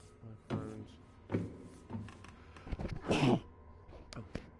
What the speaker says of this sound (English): that was a sneeze and a half.